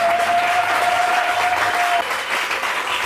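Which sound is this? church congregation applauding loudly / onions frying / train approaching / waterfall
church congregation applauding loudly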